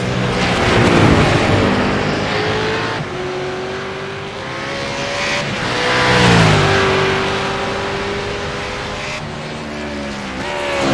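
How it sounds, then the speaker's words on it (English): V8 Supercar racing engine in an amateur series race, revving loudly with rising and falling pitch as it shifts through gears, joined by other cars passing and a faint tyre squeal, continuous over about eleven seconds. "Another one of the clutch kicker racing engines."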